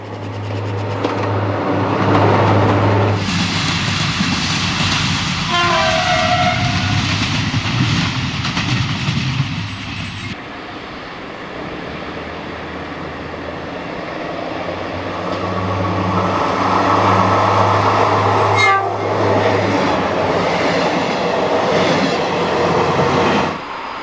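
An X2700 RGP diesel railcar runs through Lausanne station without stopping, a loud continuous rumble of engine and wheels that swells and dips as it passes, with a brief squeal near the end.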